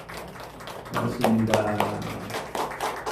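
A church congregation claps to welcome visiting guests during a service. Scattered, moderate clapping is heard under and between voices, and a speaker gives thanks over it.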